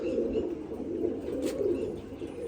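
Pigeons coo close by in a low, rolling, continuous murmur, a soft steady burble with a faint brief higher sound near the middle and no voices.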